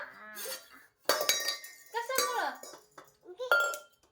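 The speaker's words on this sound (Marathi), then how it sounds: "वाजवते भांडे" A child bangs kitchen pots, pans and utensils, making sharp, irregular metallic clinks and clanks in bursts, close by, with someone talking and a voice mixed in.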